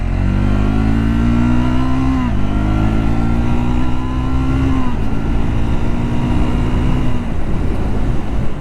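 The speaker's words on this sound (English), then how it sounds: "It's the same 400cc engine." A Triumph Scrambler 400 XC's 400cc single-cylinder engine pulls loudly through several gears, its pitch climbing and then dropping at each shift in three rising runs.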